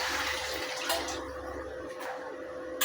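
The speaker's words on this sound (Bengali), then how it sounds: "এইবার আমি বাটির গরম জলটা কড়াইয়ে ঢেলে দিচ্ছি।" Hot water tipped from a bowl into a wok during home cooking, a steady broadband pouring rush lasting throughout, fairly loud and close with no talk over it.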